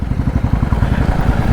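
A motorcycle engine close by, throttle blipped in a rapid, throbbing low rumble that pulses steadily and loudly throughout.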